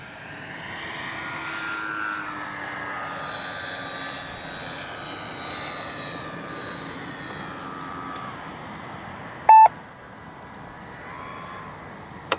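A Dynam BF-109 radio-controlled warbird model flies inverted overhead, its propeller motor giving a steady, moderately distant drone with slight pitch shifts, broken near the end by a brief sharp electronic beep.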